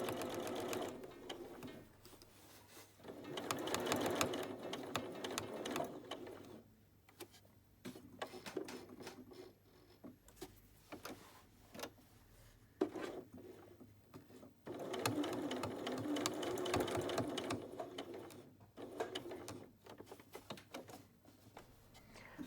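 A sewing machine topstitches 2 mm from the edge of a jacket with the standard presser foot, running in several bursts of rapid stitching separated by short pauses and small clicks, fairly quiet overall.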